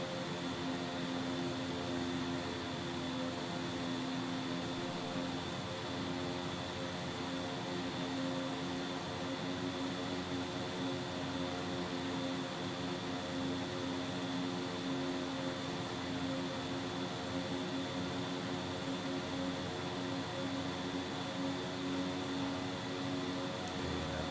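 Beechcraft 1900D twin turboprop in flight, with its propellers pulled back to about 1,550 rpm: a steady, unbroken cabin drone of engine and propeller hum with strong tonal bands and constant loudness throughout.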